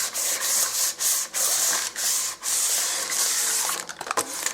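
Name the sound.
greasing a baking pan with butter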